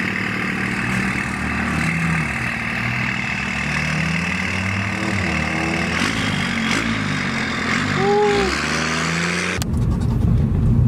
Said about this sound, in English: we're headed to the shop with nothing on, but just the downpipe, so we took off the whole exhaust